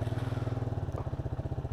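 A Peugeot PM-03 motorcycle engine runs close by with a steady, even, rapid putter, a low rhythmic chug with no talk over it.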